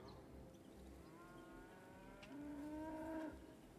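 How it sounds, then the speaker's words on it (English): Cow mooing in the farming video game Dorfromantik, a single faint, drawn-out low moo rising out of a quiet ambient background about midway through. "I hear cows? What are we hearing right now? Are those cows?"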